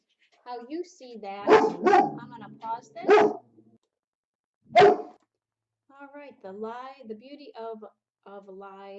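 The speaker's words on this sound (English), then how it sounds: "That was my dog." A pet dog barks several times in short, sharp bursts, loud and close, while a person talks before and after the barks.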